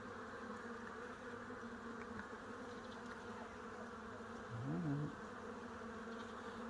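Honeybees swarm inside an open hive during an inspection, their dense, steady buzz filling every moment, swelling briefly louder and wavering near the end.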